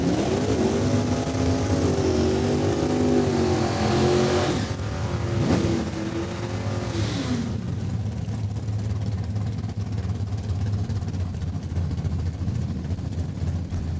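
At a drag race at Saskatchewan International Raceway in Saskatoon, a 1968 Dodge Charger and a Plymouth Duster make loud engine noise that rises sharply in pitch as the cars rev, then fades into a lower, steady rumble.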